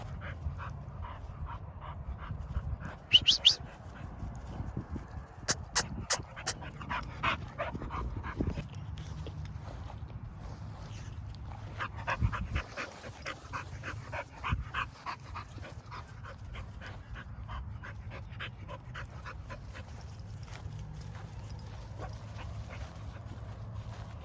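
An American Pit Bull Terrier mother dog with young puppies pants rapidly and steadily up close, mixed with faint whimpers, yips and light shuffling throughout.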